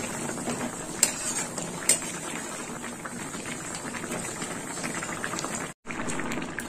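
Helencha greens sukto bubbling and simmering in a pan, a steady soft boil with a few light clinks of a utensil against the pot, continuous and close.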